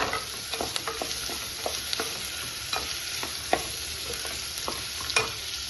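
Onions and green chillies sizzle steadily in a pan for masala dosa filling, close and fairly quiet, while a spatula stirs with repeated light scraping taps spread through the frying.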